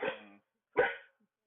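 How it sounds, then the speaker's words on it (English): A dog gives two short barks, close and fairly loud, separated by a brief silence, with no talking. "we were listening to Lucy bark"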